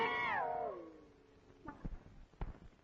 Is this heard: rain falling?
no